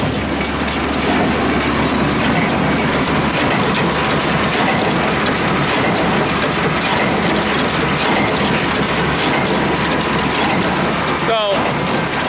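A hay baler runs hard with a dense, steady mechanical clatter and a rhythmic knock from a faulty plunger or gearbox, loud and close throughout.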